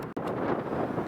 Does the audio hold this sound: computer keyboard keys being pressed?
no